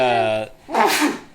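A sneeze bursts out loud and close during a tabletop role-playing session, following a stretch of a voice with a strong held tone and a brief pause.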